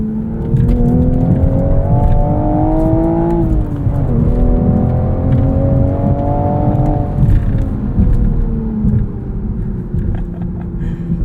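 A 2023 Toyota GR Supra 3.0 with a manual gearbox drives under load, its engine droning loudly and steadily, rising in pitch through two gear pulls with a brief dip for a shift between them.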